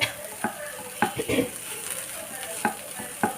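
Raw banana podimas with grated coconut stirred in a pan: a soft, steady scraping with several sharper spoon knocks against the metal, close and clear, faint sizzle beneath, no voices.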